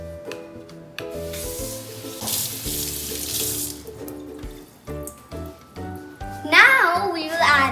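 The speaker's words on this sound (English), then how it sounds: "now let me just go wash my hands" A kitchen tap runs while hands are washed before making waffles, a steady splashing hiss under a child's chatter and background music, nearby and moderately loud.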